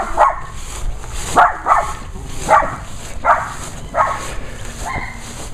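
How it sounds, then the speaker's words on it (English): A neighbour's dog barks repeatedly outdoors in a residential yard, six sharp yelps spaced about a second apart, moderately distant over faint background noise. "also next door neighbor's dog"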